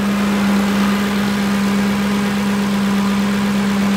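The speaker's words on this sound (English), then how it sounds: "as you can hear, the engine's quiet, the exhaust is quiet, the headers are quiet." A 2007 Lincoln Navigator with headers idles smoothly, close and fairly loud, its quiet exhaust holding a constant low, even hum throughout with no voices.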